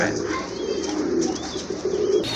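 A female pigeon in a seller's collection coos among other pigeons, a continuous low warbling murmur heard close and fairly loud over a steady background hum.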